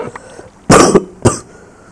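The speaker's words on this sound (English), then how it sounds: "Sorry for the coughing." Two harsh, close coughs from a person, a longer burst followed by a shorter one, with quiet pauses around them.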